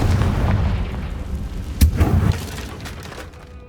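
A blast from the Confringo fire spell in Hogwarts Legacy: a sharp crack followed by a deep rumbling boom and a few smaller thuds that fade out over a low ambient bed.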